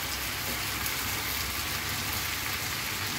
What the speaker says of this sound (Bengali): এখন জাস্ট মিশিয়ে মিনিট 2 ভেজে নিলেই হয়ে যাবে।